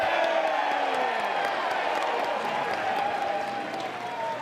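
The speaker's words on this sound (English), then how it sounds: "And a bit of encouragement from the Carolina crowd today." A college baseball crowd at a Duke versus North Carolina game cheers, whoops and claps in encouragement. The sustained roar of many voices slowly eases off, with no talk over it.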